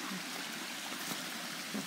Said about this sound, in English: Beautiful little waterfall. From a creek.